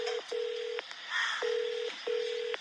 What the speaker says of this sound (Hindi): इतना कहकर अभिमन्यु अपना मोबाइल निकालता है और कछुए को फोन करने लग जाता है।